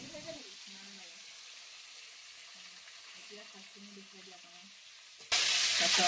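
Fish slid into a pan of hot oil sets off a sudden, loud, broad sizzle near the end, after a quiet stretch with faint voices talking in the background.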